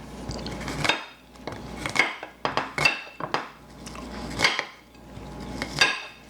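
A knife chops food firmly against a board in uneven bursts of several strokes each, close and fairly loud, with no talking.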